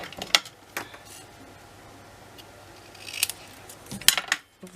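Scissors cutting paper for a scrapbook album, a few sharp snips with quiet stretches between, close and crisp and ending in silence, with no voices.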